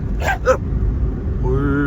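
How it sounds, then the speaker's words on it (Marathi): A dog barks twice in quick succession at night near a lit roadside, the sharp yips fairly close, followed by a faint low hum. "डचकलो ना मी कुत्रे."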